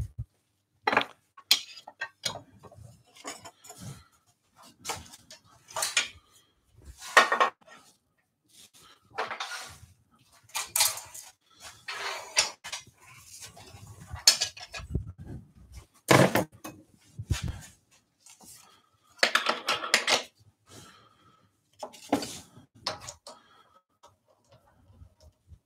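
Metal lathe parts and fittings being lifted off and set down in a woodworking shop, giving a series of irregular sharp clinks, taps and knocks, close by, with short pauses between them and no talking.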